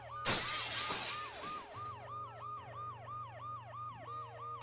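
A sudden crash of shattering glass in the video game Dead Synchronicity, then a looping wailing ambulance siren that carries on steadily, along with a low electronic hum.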